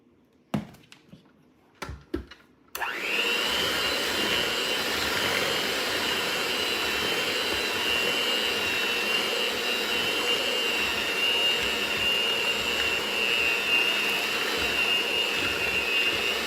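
An electric mixer beating cookie dough for snickerdoodles in a home kitchen starts after a few sharp knocks and then runs as a steady, loud, high-pitched whir that continues without a break to the end.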